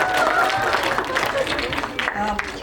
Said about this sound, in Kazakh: Сондықтан Гүлзина апайларыңа үлкен рахмет деп қол шапалақтап қояйық